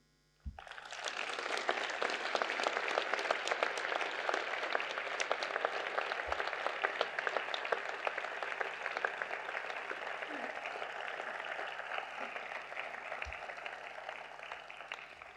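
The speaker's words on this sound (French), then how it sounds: "réserver vos plus chaleureux applaudissements à nos pompiers" Warm audience applause for firefighters at a mayor's New Year address in a hall, a sustained, even roar of many hands that starts abruptly and holds steady, fairly distant, with a few low thumps.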